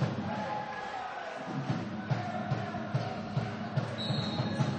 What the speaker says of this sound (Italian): Intanto le due tifoserie si fanno sentire.